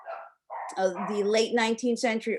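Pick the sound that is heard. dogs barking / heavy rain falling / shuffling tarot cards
dogs barking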